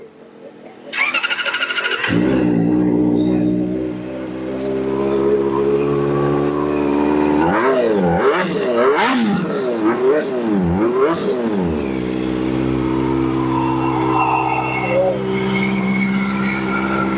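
An inline-four motorcycle from late 2023 starts and runs close by, a loud smooth engine tone with several quick revs rising and falling in the middle before settling back to idle.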